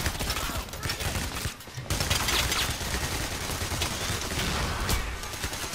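Grenade launcher and other gunfire in Payday: The Heist ring out in a dense, loud barrage of shots and blasts, with a brief lull midway before the firing resumes.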